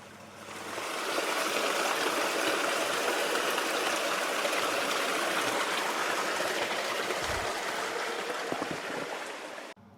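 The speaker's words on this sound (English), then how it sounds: "these small rocky mountainous streams" A small rocky mountain stream in the Borneo forest at Mount Kinabalu, flowing as a steady, loud, broad rush of water that fills the clip without pause, with no voices over it.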